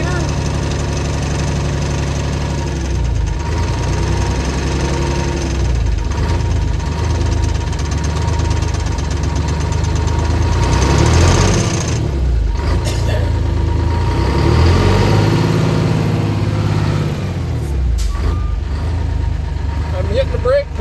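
A 1974 Diamond Reo truck with a Detroit 6V71 diesel idles after a cold start, its heavy, steady rumble loud and near throughout with slight knocking, while a person speaks over it.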